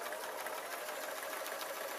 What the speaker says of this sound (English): I'm using a nice large stitch. I'm letting the machine take the fabric.